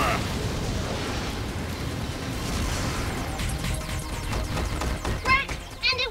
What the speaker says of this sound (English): Fire breath!